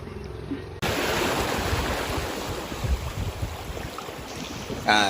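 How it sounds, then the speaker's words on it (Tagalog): Sea surf washes onto a rocky shore in a continuous rushing roar with wind buffeting the microphone, loud and close after a brief quieter start. "Dito na yung dagat."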